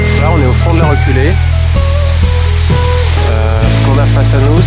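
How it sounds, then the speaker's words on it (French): The Cascade de Baume-les-Messieurs waterfall in the Jura gives a loud, steady broadband rush that fills the scene, with people talking close over it. "Ce qu'on a face à nous c'est la cascade de Baume-les-Messieurs."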